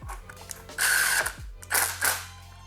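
Power driver screwing down a bracket bolt on a Suzuki DRZ400 stator cover, with two short whirring bursts close by and a few small metallic clicks between them.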